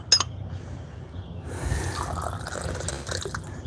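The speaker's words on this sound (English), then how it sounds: "just run some hot water through my teaware to sort of prep it all" Hot water is poured through gongfu tea teaware, starting with a few small drips and then turning into a steady close splashing pour that lasts to the end, with no talk.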